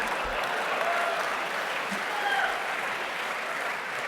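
Applause from a live-show audience at WWDC 2023, a steady wash of clapping hands held at a consistent level for the full few seconds with no voices on top.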